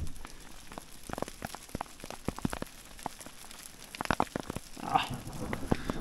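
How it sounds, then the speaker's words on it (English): Hail pelts down on a trek through Peru's Colca Canyon, with sharp irregular impacts ticking and cracking nearby across a quiet background, a few louder hits clustering near the end. "It's hailing now and they bloody hurt."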